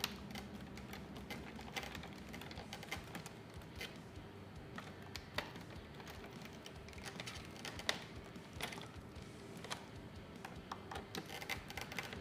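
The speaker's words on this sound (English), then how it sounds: "We'll just drop in the screws and tighten them down." Small 2.5x8mm screws being dropped in and tightened on the tail section of a Habu 70mm RC model jet, giving faint, scattered clicks and light taps over a quiet workbench background.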